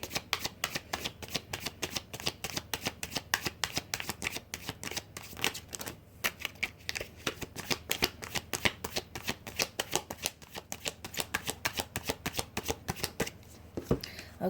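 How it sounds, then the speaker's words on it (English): Tarot cards are shuffled in a fast, continuous run of crisp riffling clicks and flutters, close up and steady for the whole stretch, with no talking. "let's start pulling some cards"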